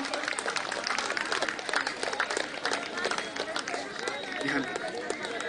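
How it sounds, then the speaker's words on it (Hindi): A crowd claps steadily and energetically at a political rally in India, a dense patter of applause with voices chattering underneath. "अनिल शर्मा जी, एक बार जोरदार ताली बजा के अभिनंदन।"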